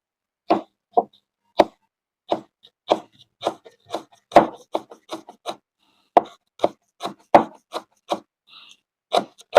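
A knife chops kaffir lime leaves on a board in a steady series of crisp, close, distinct knocks, about two per second, with quiet gaps between strikes and no talk.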